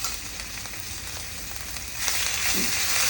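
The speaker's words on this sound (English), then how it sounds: "Fry it for a little bit." Ginger and garlic paste frying in ghee makes a steady close hiss that grows louder and brighter partway through, with no voices.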